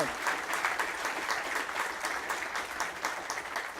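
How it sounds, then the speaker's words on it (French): An audience at a conference talk on the digital health market applauds its sponsors and partners, a steady, dense wash of many hands clapping that holds at an even level throughout, with no voices rising above it. "je voudrais qu'on applaudisse très fortement nos sponsors et nos partenaires"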